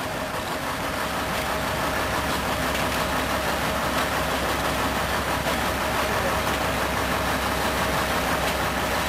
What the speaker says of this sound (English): A short coach ride took us up into the mountains and the snow we had been waiting for.